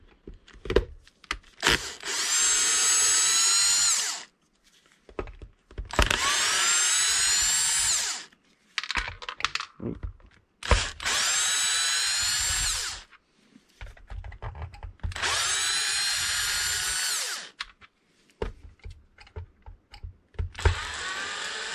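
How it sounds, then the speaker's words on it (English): An electric drill removes screws from a Traxxas X-Maxx 8S RC truck, whirring in several bursts of a few seconds each, separated by short pauses filled with clicks and handling noise, close and loud. "Just to save time, I'm just going to use my electric drill."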